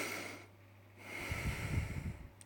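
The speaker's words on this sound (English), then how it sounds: "which is just the sound of breathing" A heart rate variability app plays a breathing track: one slow, airy breath, a soft hiss, then a rougher, snorting exhale, close and alone.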